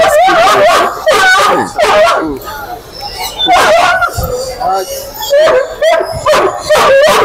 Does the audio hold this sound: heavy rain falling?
no